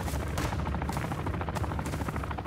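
Dense, continuous gunfire from Call of Duty: Modern Warfare II, with rapid overlapping shots and bursts at steady high volume, sounding like a sustained firefight close by.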